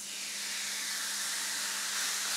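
A steak seasoned with salt sizzles in a hot pan, giving a loud, steady, close hiss that holds without a break.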